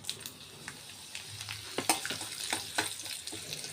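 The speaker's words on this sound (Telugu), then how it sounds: "ఇప్పుడు ఎండుమిర్చి వేసేద్దాం పోపులో." Dry red chillies crackle in hot tempering oil with urad dal, mustard seeds, cumin and asafoetida, in quiet, scattered pops and short bursts of sizzle over a low frying hiss.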